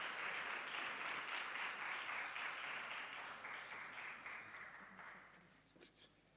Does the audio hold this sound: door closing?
no